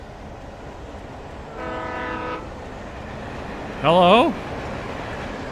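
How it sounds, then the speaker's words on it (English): A train rolls past in the Alan Wake video game with a constant rumble, then a loud, brief horn blast partway through. A voice speaks faintly over it. "Trains!"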